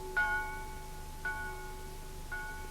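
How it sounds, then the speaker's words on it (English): Church bells rung as a warning of imminent invasion in wartime Britain: three bright, distant bell strikes about a second apart, each ringing on with a thin metallic hum over a quiet background. "Church bells rang their warning."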